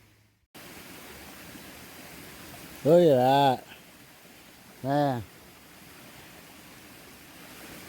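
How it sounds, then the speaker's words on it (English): A waterfall pours into a brook as a steady, soft broadband rush running throughout, with a voice speaking briefly twice over the outdoor water noise. "Got the nice sounds of the waterfall coming through the brook."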